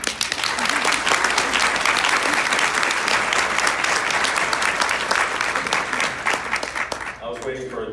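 Sustained applause from a keynote audience, loud and dense for about seven seconds, then thinning out near the end as a voice begins over the last scattered claps.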